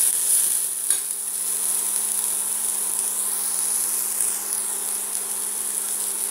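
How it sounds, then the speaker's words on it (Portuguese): Garlic frying with softened onion in a pan, a steady close sizzle with a faint stir early on, continuing evenly with no talking. "Vamos deixar ele dar uma fritadinha."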